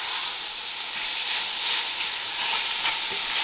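Minced lamb sizzles and crackles steadily in a hot pot, a constant close hiss with small pops throughout.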